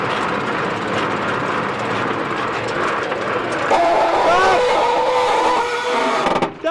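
A converted camper van drives along with a faulty rear axle, a constant rumbling road and drivetrain noise joined partway through by a rising, wavering whine, with people talking over it.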